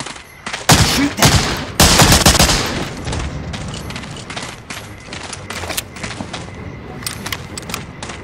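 Gunfire from Medal of Honor: Allied Assault crackles in loud bursts of rapid shots and a few single cracks, heaviest early and then thinning to scattered pops over a low background rumble.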